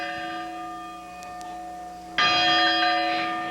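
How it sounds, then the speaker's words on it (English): A Catholic church bell rings with long, sustained tones; a second strike swells in partway through, its hum lingering and slowly fading. "the haunting echo of a bell ringing for those"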